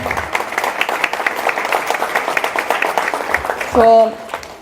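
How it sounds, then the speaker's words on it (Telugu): A crowd at a blanket donation drive applauds loudly, a thick continuous clatter of clapping with voices mixed in and a short sustained tonal cry near the end. "ఒక్కసారి గట్టిగా చప్పట్లు కొట్టాలి"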